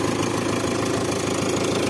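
A small tractor with a 1.9 diesel engine idles steadily at close range, a loud, even knocking chug with no voices over it.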